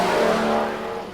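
Queensland modified production race cars roar past at Carina Speedway, a loud, dense engine drone that fades slightly as the pack moves away.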